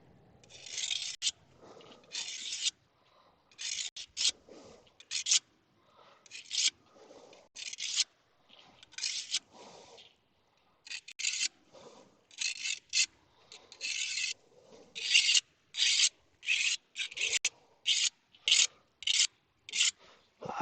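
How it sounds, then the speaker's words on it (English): Kitchen knives sharpened by hand with no grinder, a steady series of rasping strokes in bursts of several passes, close and fairly loud, with short pauses between sets and no talk. "See if I can't sharpen a couple of these knives."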